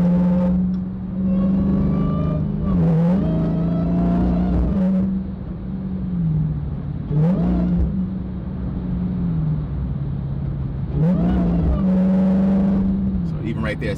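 Dodge Hellcat engine in track mode, a loud steady low drone that swells into revving bursts several times as the throttle is eased on and off, heard close from inside the car.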